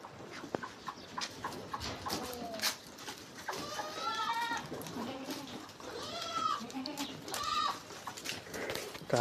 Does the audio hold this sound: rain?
no